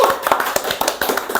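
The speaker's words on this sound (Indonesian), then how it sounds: "tepuk tangan dulu dong" A small audience claps on cue during a village talk show, a handful of distinct, sharp hand claps and taps in quick irregular succession, close and fairly loud, with a faint voice beneath.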